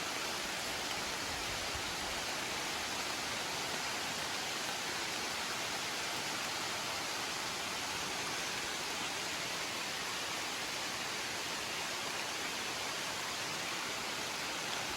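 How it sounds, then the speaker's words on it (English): Heavy rain pours steadily through the woods, a dense, even hiss filling the whole stretch without letup, close and enveloping, with no voices over it. "It is pouring."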